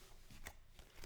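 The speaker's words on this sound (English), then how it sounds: "I like how they shuffle and they go back together" A deck of playing cards is shuffled up close, a soft, faint riffling rustle with a few light flicks and taps through the second, without any talk.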